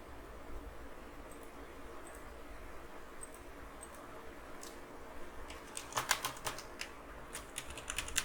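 A document number is typed on a computer keyboard, with sparse soft keystrokes early on, then a denser burst of clicky taps near the end, close and quiet over a faint background hiss.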